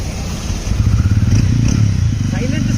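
A TVS Ronin motorcycle engine catches and settles into a low, throbbing idle rumble close by, with a voice talking over it.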